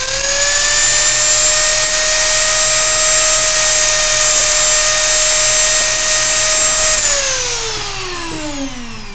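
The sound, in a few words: Dremel rotary tool cutting polystyrene plastic at 35,000 RPM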